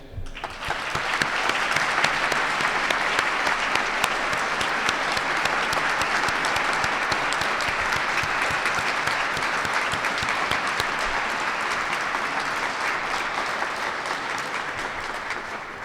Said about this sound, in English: Join us with a round of applause for all of our honorees today.